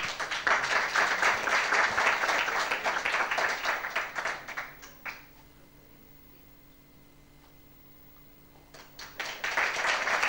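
An audience claps for a performance by young girls, a dense, steady round of applause that fades out midway, leaving near silence, then swells back strongly near the end.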